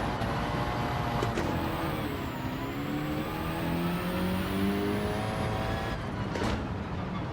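A car engine in Gran Turismo 7 revs and accelerates during a dirt driving licence test at Fisherman's Ranch, a loud continuous drone with rising and shifting pitch and no talk.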